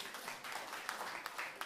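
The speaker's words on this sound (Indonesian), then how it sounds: "tepuk tangan bagi Tuhan" Faint, distant applause from a church congregation during a sermon, a soft continuous patter of clapping with a few slightly louder claps standing out.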